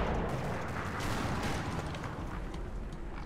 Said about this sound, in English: No, that's still mortar fire, I think.